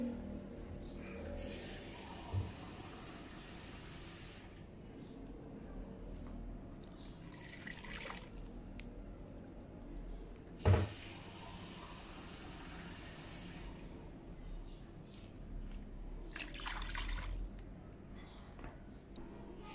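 Half a cup of starch is stirred into two cups of water for homemade cream, giving faint, intermittent liquid swishing and sloshing in short bursts, with no speech.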